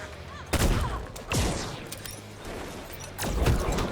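Grenade explosions from the fighting game Mortal Kombat XL, three loud booming blasts roughly a second or two apart, each with a sharp onset and rumbling tail over a steady background of game noise.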